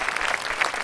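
Audience applause fills a Jaya TV Super Singer South India studio after a contestant's song, a dense steady patter of many hands clapping at moderate volume, with no talk over it.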